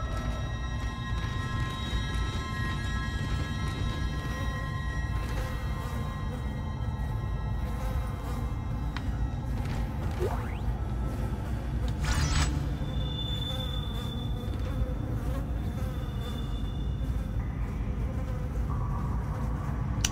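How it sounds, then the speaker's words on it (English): Flies buzz around a corpse in the Dead Space video game, a dense continuous insect drone with steady hum, loud and close, without talk. "Put in the sounds of flies buzzing around"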